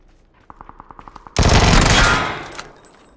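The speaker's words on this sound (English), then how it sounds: "That SK's shooting at me." Video game gunfire: a quick run of about eight evenly spaced sharp shots, then a loud sustained burst of dense firing that tails off into a fading echo.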